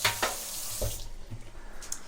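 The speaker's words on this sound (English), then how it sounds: "So, just gonna give that a rinse." Tap water runs briefly into a kitchen sink while a mac and cheese with coleslaw dish is being rinsed, close and moderately loud, with short splashy bursts and no talking.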